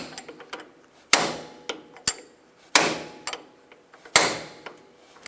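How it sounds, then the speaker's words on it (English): Hammer blows tapping a bolt through a front shock absorber mount on a 2000-2006 Toyota Tundra, three hard metallic strikes spaced over several seconds with lighter ticks and clinks of tools in between, close and clear with no talk. "once it's started, then we can start tapping it with a hammer"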